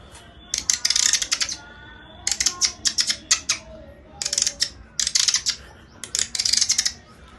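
A voice mimics sparrows chirping, producing bursts of rapid, high, twittering chirps in four or five clusters separated by short pauses, fairly close and clear with no other sound.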